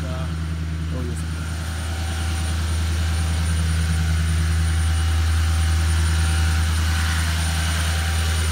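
A cold diesel engine, likely a 2013 truck on a cold start, revs up on automatic high idle with its turbo spooling, a steady loud drone with a low rumble, while people talk nearby.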